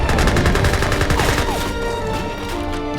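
Musket volleys in an Age of Empires III battle, loud overlapping crackling shots fired in quick succession, thinning slightly toward the end amid general combat din.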